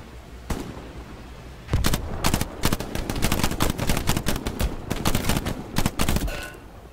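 Rapid video-game gunfire with metallic pings of bullets striking enemy soldiers' helmets, a quiet lull first, then dense loud bursts of sharp shots and clanks in quick succession.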